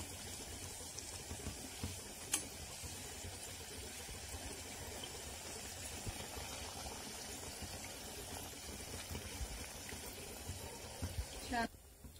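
Cucumber vadas deep-fry in hot oil with a steady, soft sizzling hiss throughout, faint and even, while someone narrates in Marathi over the sound.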